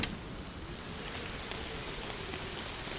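Steady evening rain falls on a surface, a dense even patter of drops that holds at a constant level throughout, with no voices.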